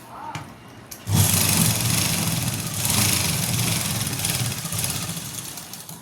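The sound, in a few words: sewing machine stitching the top seam of a pant pocket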